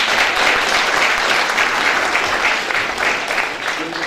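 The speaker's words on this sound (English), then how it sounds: "So yeah, a round of applause please" A hall audience at an international music festival event in Prague gives a round of applause, a thick sustained patter of clapping that stays loud and eases slightly toward the end.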